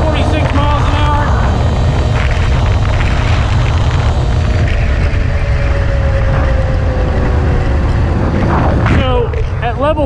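Apollo RFN electric dirt bike ridden at speed, a loud continuous rush of wind and motor whine with rising and falling electric tones and rattles, close and steady throughout.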